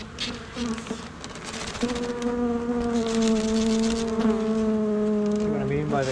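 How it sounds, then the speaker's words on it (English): Honey bees at a Flow Hive hum in a dense, close swarm during a mite treatment, a loud steady buzzing drone that rises and wavers throughout. "Big old pile of bees."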